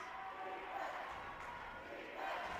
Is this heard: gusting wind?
no